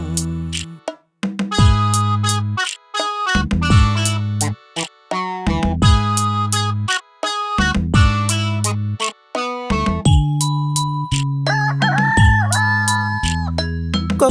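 Rooster crowing woven into a cheerful children's song about a rooster perched on a house wall, with loud, repeated cock-a-doodle calls over bright music and sung vocals.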